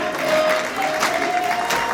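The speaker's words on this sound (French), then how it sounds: "applaudissez le groupe" Audience applauding the group at a Paris church gathering, a brief burst of crowd clapping with a faint sustained tone running underneath.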